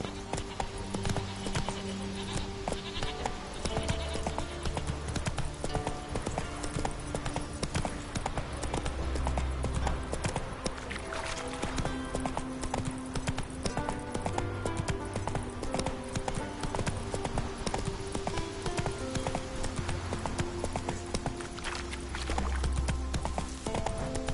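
A horse gallops in The Witcher 3 video game, its hooves clip-clopping in a steady, continuous rhythm over game music, with an occasional whinny and snort.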